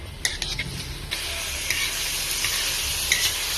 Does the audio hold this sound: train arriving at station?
no